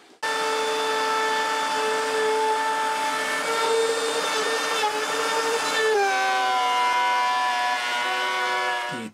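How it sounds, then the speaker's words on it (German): A wood router with a 16 mm bit mills a slot for a bandsaw circle cutter, a loud, steady high-pitched whine that holds for several seconds, dips slightly in pitch under load, then spins down. "damit werde ich erstmal diese Seite ausfräsen"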